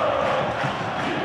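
A Corinthians football crowd roars in the stadium during a 2008 Brazilian championship match against Santo André, a steady, loud mass of cheering and chanting voices with no break.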